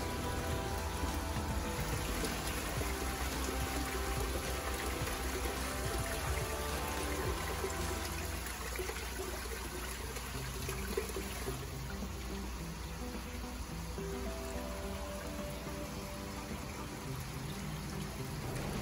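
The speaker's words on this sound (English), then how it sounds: "this will drain the inner chamber with the dirty water" Water trickles and splashes steadily as the dirty inner chamber of a Nexus 310 koi pond filter drains down to a pump, a continuous rain-like wash with no pauses.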